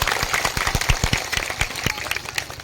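Church congregation clapping loudly after a testimony, a rhythmic run of sharp claps that thins out toward the end.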